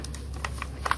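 Fingers tap on a computer keyboard in a brief burst of soft, irregular key clicks, close by and quiet, with no talking.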